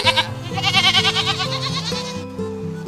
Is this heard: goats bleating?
yes